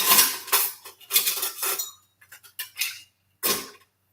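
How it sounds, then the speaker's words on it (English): Dishes, pots and cutlery clatter and clink in several close, loud bursts behind a bar while cocktails are prepared, with short pauses between the bursts. "Thank you for washing the dishes over there."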